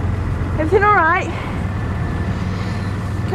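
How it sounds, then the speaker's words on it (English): A parked car's engine idles with a steady low rumble throughout, while a brief warbling tone rises and falls over it near the start. "Can I ask your mate to turn the engine off for a second?"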